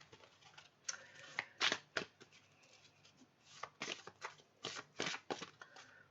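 Tarot cards are shuffled and drawn by hand, with a series of soft, close riffling bursts and quick flicks in an uneven rhythm and no talking.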